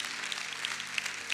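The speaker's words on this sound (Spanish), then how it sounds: "Démosle un aplauso al dueño de la gloria." A church congregation applauds during a Christmas sermon, a soft, continuous patter of many hands, fairly faint and distant, with a few sharper claps standing out at roughly regular intervals.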